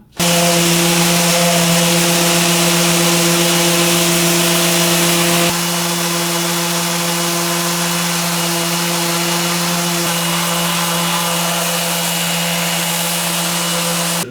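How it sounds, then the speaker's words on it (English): A power sander whines and buzzes continuously on a wooden table, a steady loud drone with a slight shift in pitch partway through. "So I'm gonna sand everything"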